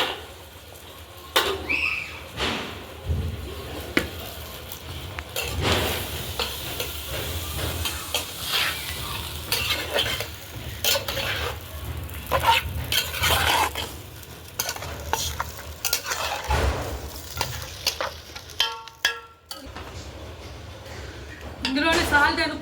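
Mutton curry stirred in a pan over heat, a spoon scraping and clattering irregularly against the metal amid steady sizzling and hissing, fairly close and loud.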